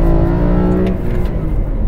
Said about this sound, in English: Oh, the noise of the intake.